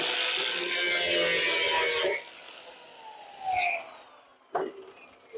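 Excess scrap metal being cut off for a small metal art fairy or toad house, a loud, harsh, continuous cutting noise for about two seconds that stops abruptly, followed by a few faint scrapes and clanks.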